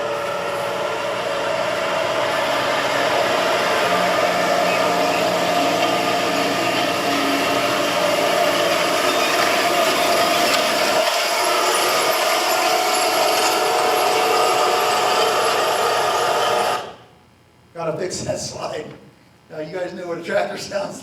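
Tractor planting 15-inch silage corn into six-foot-tall cover crop, a loud continuous mechanical drone with a steady tonal hum that runs for most of the clip, then cuts off abruptly as a voice starts talking.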